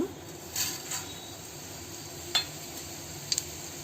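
Cumin seeds frying in hot oil in a pan while making sesame seed podi, a soft steady sizzle under several brief clinks and scrapes of a spoon.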